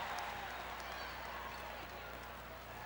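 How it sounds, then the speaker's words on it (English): Crowd applause at a women's college basketball game on senior day: a steady wash of clapping fills the arena while a commentator talks over it. "First of many rounds of applause for those players this afternoon."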